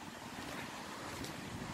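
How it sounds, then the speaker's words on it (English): Steady broadband wind rushing across the microphone, a continuous blustery roar with low rumbling gusts and no voices. "It's windy if you guys can hear it"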